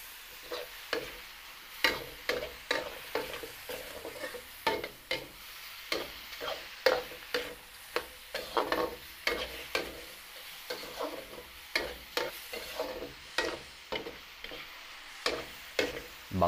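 Stirring beef and radish soup in a pot, with a spoon scraping and clinking in a steady repeated rhythm of sharp strokes over a faint simmering sizzle, close and moderately quiet.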